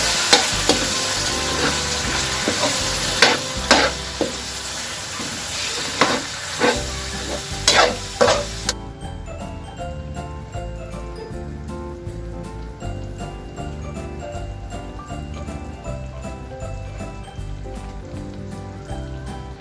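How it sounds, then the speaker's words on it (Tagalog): Ground pork frying with garlic in a pan, loud sizzling with repeated scraping stir strokes for the first half, then a quieter steady fry under background music. "Ilalagay na natin ang giniling."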